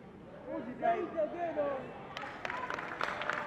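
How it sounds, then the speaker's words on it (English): Someone speaks at a youth rally with a pastor, then scattered audience clapping breaks out and grows into uneven, moderately distant applause. "I didn't ask you to clap"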